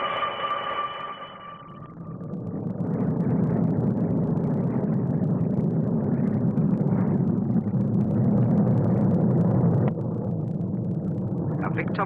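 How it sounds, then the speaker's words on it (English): Piston and jet aircraft, a Sea Vixen naval fighter leading a Comet 4 airliner, roar past at the 1958 Farnborough air display, a broad sustained rumble that swells and holds loud beneath a commentator's voice. "A distinctive Sea Vixen naval fighter, which leads in a stablemate, the Comet 4"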